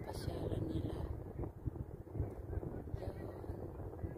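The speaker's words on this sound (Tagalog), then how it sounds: "Naglipad na yung hangin." Desert wind buffeting the microphone in a steady low roar with gusty rumbles, a person speaking under and through the noise.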